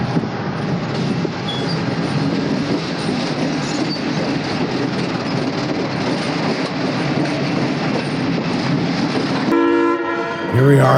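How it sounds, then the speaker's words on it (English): A southbound Adirondack passenger train on the Delaware & Hudson line, stopping at Whitehall station, rumbles loudly and steadily close by, with a horn blast sounding near the end. "This is the southbound Adirondack, stopping for a station stop at Whitehall."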